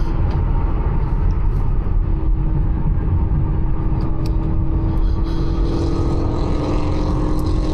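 A loud car engine rumbles close by as it drives past, a steady heavy drone with a brief rising rasp, no talking over it.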